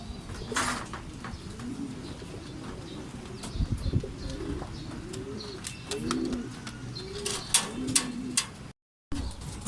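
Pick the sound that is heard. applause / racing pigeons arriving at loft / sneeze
racing pigeons arriving at loft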